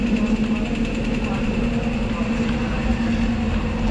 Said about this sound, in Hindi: हो गई कोल्ड स्टार्ट।